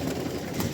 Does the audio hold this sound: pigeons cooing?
yes